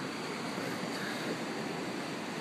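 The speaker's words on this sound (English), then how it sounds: "So here we are at the beach" Surf breaks at the beach in Laguna Beach, California, on a cool day: a continuous, even wash of waves with some wind, steady and fairly loud with no voices.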